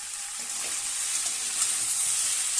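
Spices with turmeric and salt fry for vegetable pulao, making a steady hot sizzle with faint stirring movement and no voices.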